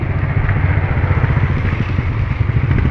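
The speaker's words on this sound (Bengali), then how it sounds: "পেছনে একটা বাইক আমাকে ওভারটেক করতে চাইছে এই রাস্তায় বৃষ্টির মধ্যে।" A motorbike engine rumbles close by on a wet road in the rain, a loud, steady mid-pitched drone with clattering texture as it comes up to overtake, and no talk over it.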